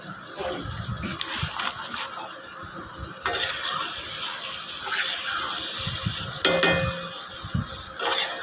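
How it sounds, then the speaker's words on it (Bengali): Beef liver curry (kolija bhuna) cooks in a pot, with a soft continuous bubbling and sizzle punctuated by stirring scrapes and occasional clatter, close and moderately loud. "আমার কলিজা ভুনাটা কি সুন্দরভাবে টকবক করে ফুটছে"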